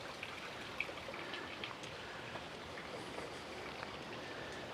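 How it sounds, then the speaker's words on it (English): A waterfall drops into a Japanese lake at Rivington, heard as a faint, distant, steady rushing and trickling of water with a few tiny splashes. "And there's the waterfall falling in."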